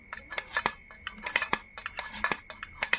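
Knife chopping prawns into small pieces on a board, with quick, irregular close-up clicks and taps, some clinking like metal against a plate.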